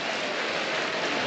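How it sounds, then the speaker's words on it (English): Cricket crowd at the SCG giving a brief ripple of applause as Australia reach 400 in a Test against South Africa, a soft, even patter of many hands clapping, heard alone. "A ripple of applause for it."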